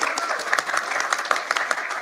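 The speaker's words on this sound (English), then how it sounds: "You can clap. It's okay." An audience breaks into steady applause after news of a cancer cure, with dense, even clapping that carries on at a moderate level for the whole stretch.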